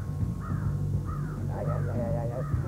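A crow caws several times in short harsh calls over a low background hum, fairly faint and at some distance.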